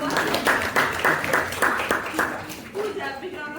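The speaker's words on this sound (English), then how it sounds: "A big round of applause to you." An audience at a classroom-style session claps for a speaker in quick rhythmic beats, the claps landing about three times a second while voices carry over the top before the clapping fades out.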